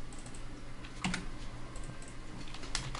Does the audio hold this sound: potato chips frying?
no